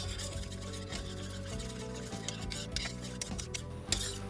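A utensil stirs and rubs through honey garlic pork chop sauce with rice wine vinegar in a bowl, soft repeated scraping and swishing strokes, close and quiet with no talk.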